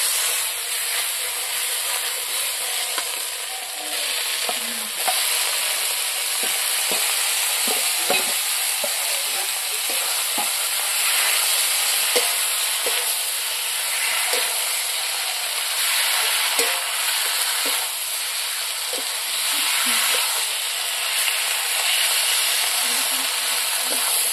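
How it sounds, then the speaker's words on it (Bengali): Country chicken sizzles steadily in a hot pan, with soft scraping and clicking from stirring throughout. "এখন কত সুন্দর ভাজা ভাজা হয়ে গেছে মাংসটা"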